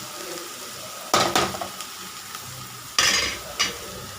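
Lotus stem sautéing in a pan, with a soft steady sizzle broken by a few sharp scraping stirs of a spoon against the pan, close by and with no talking.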